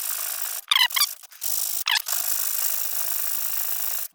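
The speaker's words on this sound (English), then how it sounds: "So I've got a sanding belt here." A high, hissing grind of a sanding belt against a wooden lyre bridge or tailpiece runs in steady stretches, broken by brief squealing scrapes and short pauses.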